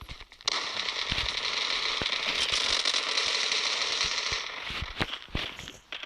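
A bomb explosion in the mobile shooter game Zula gives a loud, sustained crackling roar that rumbles on for several seconds before breaking into scattered pops.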